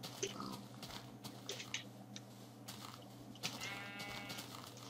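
Sheep bleat in the Minecraft video game, with several short bleats spread across the clip among light game noises and a faint voice in the background.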